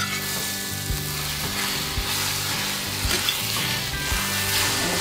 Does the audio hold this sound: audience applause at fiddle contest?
no